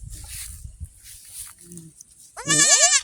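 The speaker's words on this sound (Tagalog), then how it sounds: "Huwag kang lalapit sa kambing." A newborn goat lets out a loud, wavering bleat near the end, close by, after a stretch of quiet rustling and faint background sounds.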